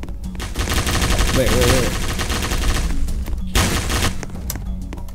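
Shotgun fire during a Roblox battle royale round, a dense burst of loud close gunshots and booms. A player speaks briefly over the shooting.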